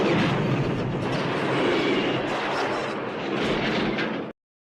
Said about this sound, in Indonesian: menabrak mobil lain dan meledak.